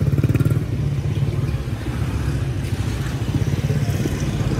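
Motorcycle engines rattle and putter along a street at night in a loud, close, rapid pulsing drone that dips slightly midway, then continues.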